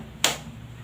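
A single sharp hand clap rings out in a classroom during a clapping ice-breaker game, one crisp close burst standing alone against a quiet room.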